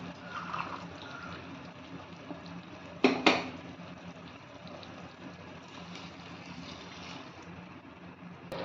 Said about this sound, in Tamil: ஒரு டம்ளர் பால் ஊற்றியாச்சு ஒரு டம்ளர் தண்ணி ஊற்றிக்கும்